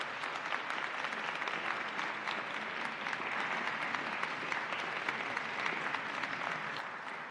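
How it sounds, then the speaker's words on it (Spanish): An audience at a talk on the history and culture of tea in Japan claps steadily for the speakers, with dense, even applause from a moderate crowd lasting throughout. "no me queda más que pedirles un aplauso para nuestros ponentes"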